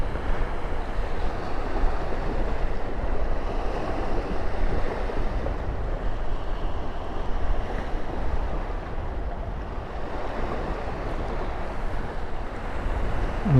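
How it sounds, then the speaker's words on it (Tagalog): During Typhoon Kristin, waves pound the shore along a baywalk strewn with washed-up logs, making a steady, heavy surf roar mixed with wind buffeting the microphone. No one speaks. "Ang lakas ng hampas doon ng alon."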